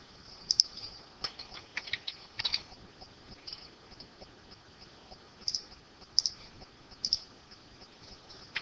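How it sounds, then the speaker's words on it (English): An equation is typed on a keyboard as a sparse, faint series of light clicking keystrokes in irregular bursts, quiet and close. "I'm going to go ahead and type that equation into my notes"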